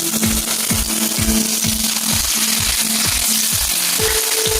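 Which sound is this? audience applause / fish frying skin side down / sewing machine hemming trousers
fish frying skin side down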